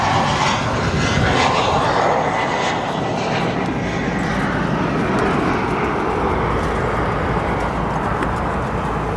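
United Airlines Embraer E175 regional jet departing O'Hare in gusty wind, a loud steady broadband engine roar filling the whole stretch without a break.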